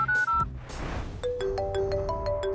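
A phone ringtone plays while a call to a father is placed, starting with brief tones and then a steady, repeating electronic melody of clean beeping notes, clear and close with no talk.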